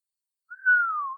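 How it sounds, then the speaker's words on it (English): A person whistles one sustained note that slides gently downward, clear and close, lasting under a second against silence. "The stranger whistled."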